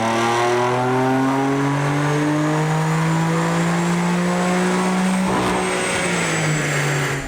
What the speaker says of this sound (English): Here's a stock baseline run on a 2015 M4 6-speed manual.